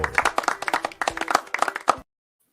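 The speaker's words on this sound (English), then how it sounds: "I love that Jason added the applause on there" Applause sound effect dropped into a recovery-themed podcast, a burst of clapping hands with distinct rhythmic claps for about two seconds, then cutting off abruptly to silence.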